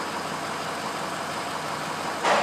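A 6.0L Powerstroke diesel truck engine idles after fuel injector replacement, with a steady low rumble and a slight rise in noise at the end.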